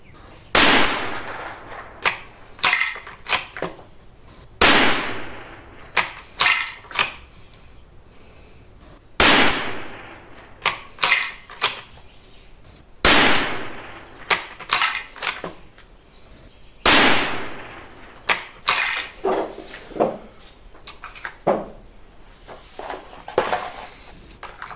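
Rifle shots from a Tikka T1x at an outdoor shooting range, a dozen or more loud sharp cracks fired one at a time at irregular intervals, each followed by a short echoing decay.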